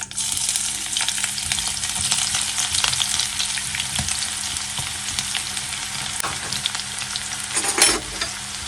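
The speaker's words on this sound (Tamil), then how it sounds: "இப்போ நம்ம ஆனியனை அதில் ஃப்ரை பண்ணிக்கலாம்." Onions frying in hot oil in a pan for Burmese-style egg street food, a loud steady hiss and crackle with occasional stirring scrapes, close and continuous without talk.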